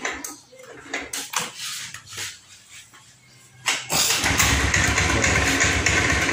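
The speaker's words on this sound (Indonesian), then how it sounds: "Namun ketika digas Pak, tuh merempat Pak ya, tuh malah mati Pak." Motorcycle with a just-drained fuel tank starts and sputters, revving unevenly in short bursts near the microphone before a louder, steady engine roar fills the final seconds.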